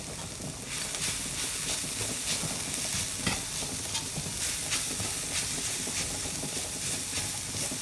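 Mixed vegetables and spices sauté in a pan for a vegetable stir fry, a steady close sizzle and hiss with soft scraping stirs throughout, no voices.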